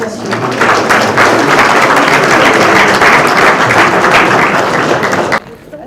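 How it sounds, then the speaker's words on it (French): Dense, sustained applause from an audience at an event launching a marine nature park, loud and steady for several seconds before cutting off abruptly. "Applaudissons les associations"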